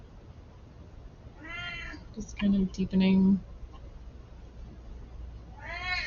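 Pet cats meow in drawn-out, rising calls at around 1.5 seconds and again near the end, with a louder bump of close noise between them and a voice speaking quietly over parts of it.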